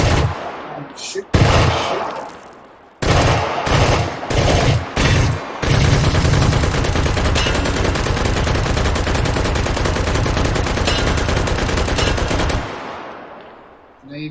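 Pistol gunfire in a VR video game, starting as a few separate sharp shots and then becoming a long, loud, rapid barrage that lasts several seconds before stopping.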